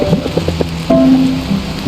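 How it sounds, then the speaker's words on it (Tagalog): Rain falls in the video game Until Then as a steady, soft patter, with faint tonal game sounds layered over it and no speech on top. "Yung mga patak ng ulan."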